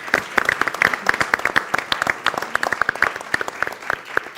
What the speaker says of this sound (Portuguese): a quem eu peço mais uma vez uma salva de palmas.